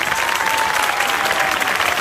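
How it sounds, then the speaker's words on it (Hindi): An audience at a worship revival festival applauds, a dense and even burst of clapping from a crowd that fills the space loudly throughout. "जोरदार तालियां बजाएंगे खुदा के खादमों के लिए"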